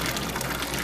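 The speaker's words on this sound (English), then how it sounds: "This is the tap water coming out of their faucet." Brown, discolored tap water gushes steadily from a household faucet in a loud, continuous, unbroken rush of running water with no voices.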